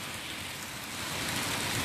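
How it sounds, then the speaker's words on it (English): Steady rain falls outdoors in a city plaza, a dense, even hiss that swells slightly louder toward the end, with no voices. "Here we are in the rain."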